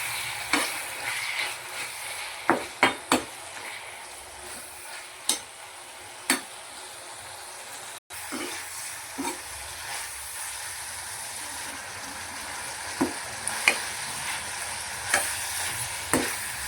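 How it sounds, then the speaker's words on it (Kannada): Prawns frying in ghee in a pan for a Mangalorean ghee roast, a steady soft sizzle with occasional sharp clicks and scrapes of a spoon as they are stirred, close and continuous with no talking. "ನೋಡಿ ತುಪ್ಪದಲ್ಲಿ ಫ್ರೈ ಆಗ್ತಿದೆ ಪ್ರಾನ್ಸು."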